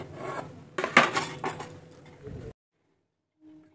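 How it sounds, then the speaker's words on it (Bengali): Patishapta batter being whisked with milk in a bowl: close, busy clattering and scraping of a utensil against the bowl, which stops abruptly and is followed by near silence and a faint tap. "এইভাবে ভালো করে ব্যাটারটা মিশিয়ে নিতে হবে, কোনো যেন দানা থাকে না।"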